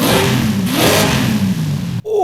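A Dodge Charger Hellcat widebody with race exhaust revs hard in Forza Horizon 5, a loud, close engine roar that rises and falls before cutting off abruptly near the end.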